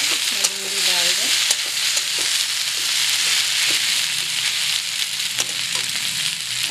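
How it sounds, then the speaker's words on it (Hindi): Okra tossed into onions frying in a pan, producing a dense, steady sizzle close by, with spatula scrapes and stirring strokes through it and a brief squeak early on. "थोड़ी भूनने के बाद प्याज को थोड़ा भून लें, उसके बाद मैं भिंडी डाल दें।"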